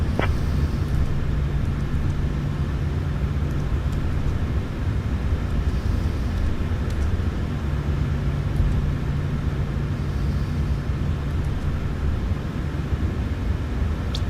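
Small single-engine airplane rolling for takeoff on runway 24, a steady loud engine drone with wind-like broadband roar and a constant low hum throughout.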